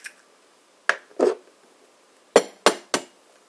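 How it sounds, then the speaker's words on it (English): Eggs cracked against a hard edge for an egg and smoked meat muffin, six short sharp clicks and taps in two close clusters, near and fairly loud with quiet between. "And then you crack the eggs"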